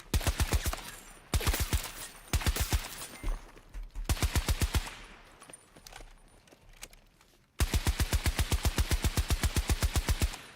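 Rapid automatic gunfire in Battlefield 2042 comes in repeated close, loud bursts, with short pauses between strings of shots and a long sustained burst at the end.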